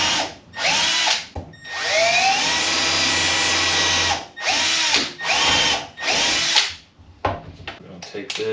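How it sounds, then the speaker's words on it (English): A power drill whirs in several long bursts while drilling a hole in a router table cabinet, starting and stopping with short pauses between them, loud and close. "I'm gonna take this and drill that hole."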